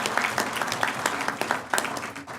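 A round of audience applause for a veterans advisory board at a Veterans Day program, a lively burst of many people clapping close and loud with crisp individual claps, continuing without a break.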